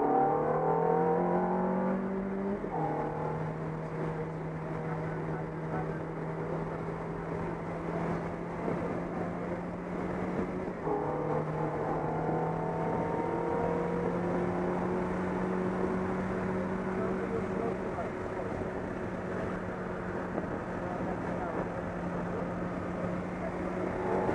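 A car's engine holds a steady, droning note under throttle through a corner, its pitch stepping down and then climbing again as the driver comes back onto the power, with an instructor talking quietly over it.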